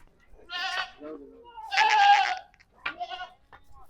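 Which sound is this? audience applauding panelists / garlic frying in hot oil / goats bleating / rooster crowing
goats bleating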